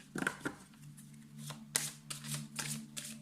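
Tarot or oracle cards being shuffled by hand in a quiet room, giving a run of soft riffling bursts and papery slaps with a low steady hum underneath.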